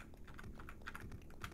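Keys tapped on a computer keyboard while playing D/Generation on an Amiga, a quick run of light, close clicks and thumps with a spacebar press among them, faint and with no talk.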